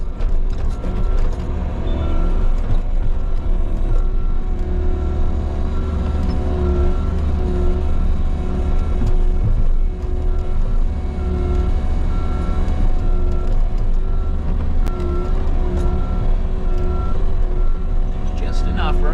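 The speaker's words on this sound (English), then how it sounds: "I've been trying to drive the skid steer far left and far right in the trail to kind of pack things down on my way in, and then on my way out, just to back out" A skid steer drives along a mulch trail and backs out, its steady loud engine rumble continuous throughout with a repeating reversing beep alarm layered on top, close by.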